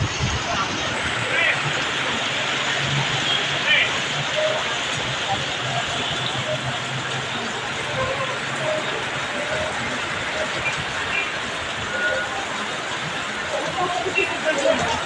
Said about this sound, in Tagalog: napakalakas po talaga ng ulan, napakalakas.